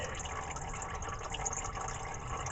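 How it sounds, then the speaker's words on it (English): Engine oil drains from a Honda CRX into a bucket below, a steady close trickling, filling sound that carries on without a break and without talk. "I'm going to let the oil that's in it drain."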